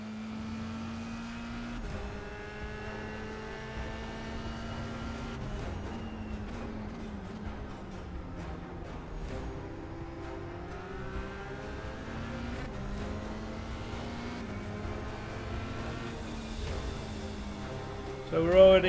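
Race car engines in a video game race drone and whine steadily, shifting pitch as the cars accelerate and shift gears, a continuous moderate layer of engine noise with no talk.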